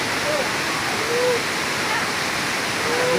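Daranak waterfall in Tanay, Rizal, pours in a steady, broadband roar of falling water that stays constant throughout, with faint voices briefly audible over it.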